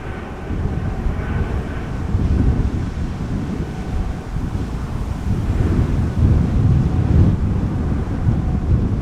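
Strong wind buffets the microphone at Amsterdam Schiphol Airport, a continuous loud rushing roar with gusty surges and low rumble, with no talk.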